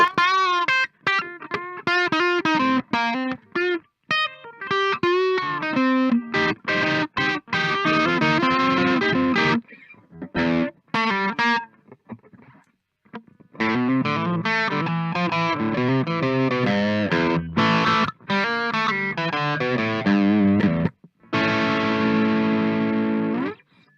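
Electric guitar through a KOKKO FOD3 overdrive pedal, a Tube Screamer clone, with a warm overdriven tone plays bluesy licks and held notes, phrases separated by short pauses, loud and close.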